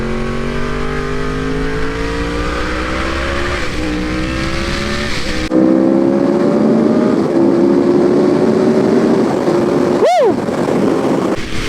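A 2015 Yamaha R1 sportbike engine pulls hard under acceleration while riding, its rising whine climbing steadily over loud rushing wind, then a quick rev spike and drop near the end.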